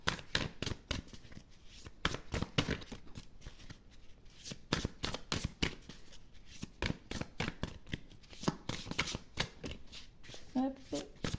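Large oracle cards riffled and shuffled by hand in rapid, repeated bursts of crisp flapping, close and fairly quiet, with a soft voice speaking between them.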